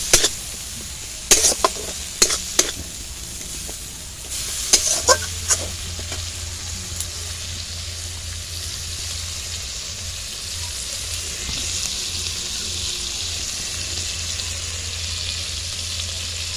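Spice paste for Bengali ghugni sizzling and being stirred in a pan, with scraping clicks of a spoon early on, then a steady close frying hiss with a low hum throughout.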